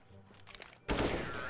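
Rapid gunfire in CS:GO from a scoped AK-47 or Desert Eagle, a sudden loud burst of shots after a quieter stretch of scattered game sounds.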